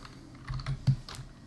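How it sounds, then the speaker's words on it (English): A few soft computer keyboard key presses, quiet and close, with one slightly louder tap near the end as the D key is hit. "hitting D on the keyboard"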